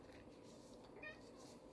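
A domestic cat, a rescue moggy, gives one faint, short meow midway through, barely rising above a steady hum of room noise.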